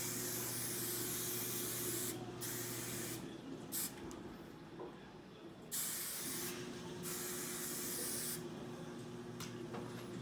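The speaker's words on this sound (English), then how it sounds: "I'm going to finish it with the hard hairspray a lot" Hard-hold hairspray is sprayed onto a cheerleader's styled hair in long, steady hissing bursts with brief pauses between them, close and fairly loud with no talking.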